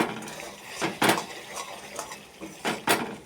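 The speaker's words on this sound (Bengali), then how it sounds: "ঢাকাটা খুলে দিলাম।" Metal lid lifted off a cooking pot with potato, capsicum and spices, heard as a few clanking knocks and scrapes spread through a short stretch of quiet kitchen noise.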